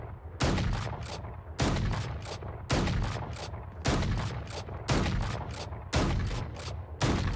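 Gunfire from a Valorant weapon using its alternate fire mode, seven loud, evenly spaced bursts, each a sharp crack with a few rapid follow-up shots, close and alone with no talk.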